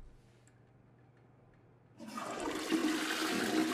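In the video game Bendy and the Dark Revival, a toilet flushes: after a quiet stretch, a sudden loud rushing gush of water starts and keeps pouring steadily to the end, with no talking.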